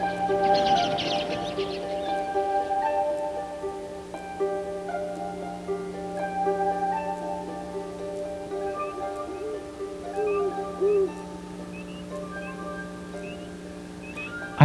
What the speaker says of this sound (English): All that squabbling and chattering with the little males all puffed up and agitated.